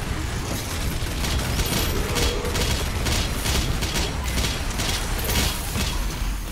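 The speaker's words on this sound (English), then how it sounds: "Missiles incoming." DOOM Eternal incoming missiles exploding: dense, continuous loud rumbling blasts and mechanical clanking with irregular impacts layered throughout, no clear gaps.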